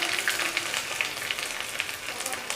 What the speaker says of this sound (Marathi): लसूण जो आहे तो आपला चांगला कुरकुरीत करायचा आहे. ब्राऊन होईपर्यंत आपल्याला असा चांगला ह्याच्यात तळून घ्यायचा आहे